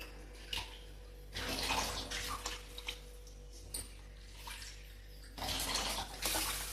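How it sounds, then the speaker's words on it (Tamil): Water poured into a simple Tamil-style fish curry in a cooking pot, coming in bursts of splashing and gurgling with short pauses between pours, fairly close and moderately loud. "இப்போ நம்ம எவ்வளோ தண்ணி வேணுமோ ஊற்றிக்கலாம்"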